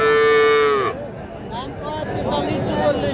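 A cow lets out a single moo over a busy crowd at Kaharol livestock market, where bulls and calves are sold, followed by continuous chatter and background voices.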